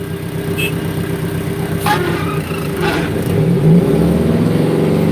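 A machine engine revving, a steady loud mid-pitched drone that rises slightly in intensity toward the end, close and continuous with no talking.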